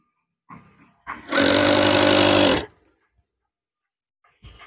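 A sewing machine runs in one steady, loud burst of about a second and a half while stitching curtain fabric. Brief handling noises come just before and after the burst.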